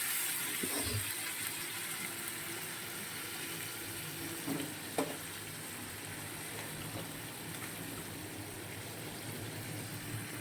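A little water is poured into a pan of crab curry that has been frying in oil, giving a steady broad splashing hiss with faint clinks, continuous and fairly quiet with no talking.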